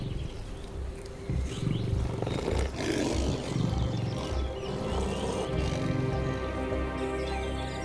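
Lions roar at a waterhole where elephants stand nearby, deep rough roars rising over a steady wild background for several seconds.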